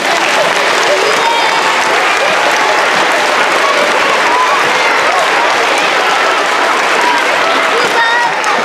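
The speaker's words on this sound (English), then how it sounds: "So let's give one huge round of applause for our kids." Loud, sustained applause from a school audience celebrating children in a CARES kindness program, thick continuous clapping and crowd noise that stays full and even throughout without a break.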